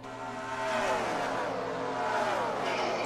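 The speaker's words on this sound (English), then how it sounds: "If you listen to their engines a bit, if they're going, that means they're pretty much in third gear." Race car engines in the NR2003 racing game at Pocono drone steadily with sliding pitch, a continuous loud engine sound with rising and falling tones throughout.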